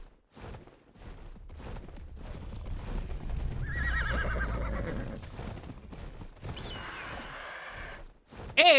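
Horse whinnies in the ARK video game on the Valguero map, a loud drawn-out neigh mid-clip followed by hoof clip-clop and game effects, with a second shorter whinny near the end.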